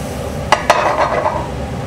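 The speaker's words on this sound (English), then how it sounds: "So we're going to saute these for a little while." Vegetables sauté in a pan with a low, steady sizzle, broken by two quick metallic clinks from a utensil against the pan early on.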